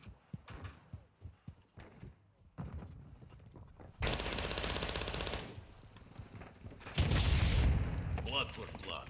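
Gunfire in Call of Duty Modern Warfare 2: scattered sharp shots at first, then dense sustained automatic bursts and heavier blasts, loud and close, with no clear speech.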